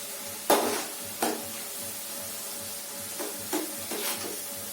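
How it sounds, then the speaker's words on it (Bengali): Mixed vegetables for vegetable fried rice fry in a pan with a soft, steady sizzle, punctuated by a few separate scraping stirs of the spatula, close and moderately loud with no voices. "এক থেকে 3 মিনিট এটা ফ্রাই করতে হবে।"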